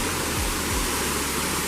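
Naavi Dand waterfall in Buner, above deep water, gives a steady, unbroken rush of falling water. The roar is loud and close, fills the whole clip and has no talk over it.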